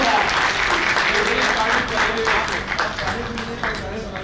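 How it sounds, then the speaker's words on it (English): Loud, dense applause from a large audience at a national convention's valedictory ceremony, steady throughout with a few louder swells, with no talking over it. "A big round of applause once again for GMA."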